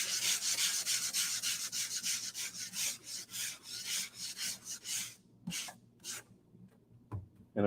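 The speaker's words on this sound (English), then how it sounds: "take one of these sanding blocks" Steady back-and-forth rasping of a sanding block on drywall, rhythmic strokes that slow and break into a few short scrapes near the end.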